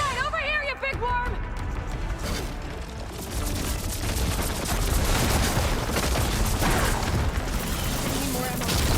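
Gunfire in the video game Horizon Forbidden West: dense, continuous volleys of shots and booms crowd the whole stretch at steady loudness, layered with game voices and battle noise.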